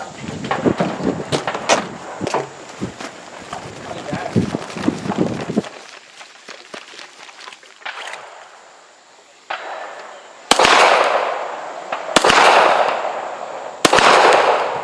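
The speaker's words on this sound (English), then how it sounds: "Move on and engage the pistol targets." Pistol shots crack at an outdoor shooting range during a multi-gun match, a rapid string of sharp bangs in the first half, then a few isolated loud shots with ringing decay further on.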